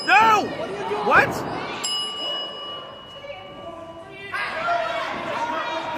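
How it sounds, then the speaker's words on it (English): At a live pro wrestling match, the ring bell is struck once to end the match, giving a bright metallic ding that rings out over crowd chatter and cheering. "Face Summers just rang the bell."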